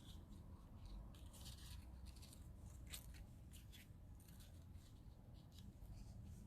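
Scissors trim paper while crafting for a new catalog launch, a run of crisp snipping and scraping strokes close by, steady and alone against a low background hum.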